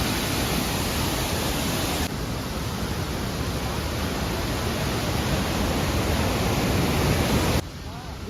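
Rushing water at Hogenakkal falls roars in a dense, steady wash, loud and close, dropping abruptly in level near the end.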